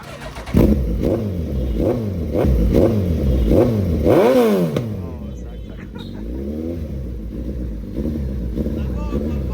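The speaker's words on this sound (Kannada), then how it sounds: "ಫ್ರೆಂಡ್ ದಯಾಭುಜ ನೋಡಿ, ಅಣ್ಣ ನನ್ನ ಡ್ರೀಮ್ ಬೈಕ್ ಒಂದ್ಸರಿ ಸ್ಟಾರ್ಟ್ ಮಾಡೋಕೆ ಚಾನ್ಸ್ ಕೊಡೋಣ ಅಂತ ಬಂದರು" A motorbike engine revs up and down in repeated rising and falling surges, loud and close, with voices talking over it.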